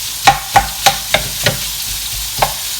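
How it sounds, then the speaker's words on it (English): Minced meat frying for a bolognese sauce crackles under a series of loud spatula knocks and scrapes as the pieces are broken up in the pan, five quick strikes and then one more. "you have to try and break up the minced pieces"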